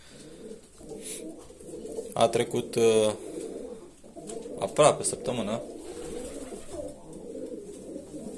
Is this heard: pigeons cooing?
yes